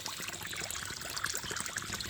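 Water trickles and pours into a fish pond stocked with fry, a soft, steady splashing flow heard close by with no voices.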